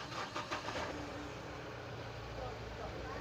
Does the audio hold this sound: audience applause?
no